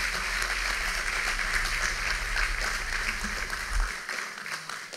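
An audience at a police service event applauds its members: sustained, dense clapping that fades toward the end, with a low hum underneath.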